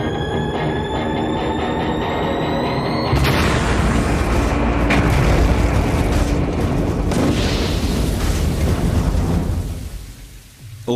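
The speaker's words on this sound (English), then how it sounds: "and the tank will split." A satellite propellant tank splits during a water pressure test at about 49 bar, giving one loud, deep booming burst that leaves a long roaring rumble which slowly fades.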